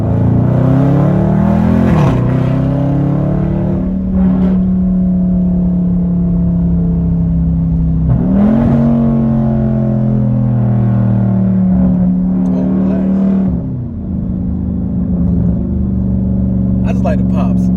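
A 2021 widebody Dodge Charger Scat Pack engine revs with steady loud droning pulls that rise and fall, a few sharp exhaust pops breaking through near the end, close to the car and alone without talk.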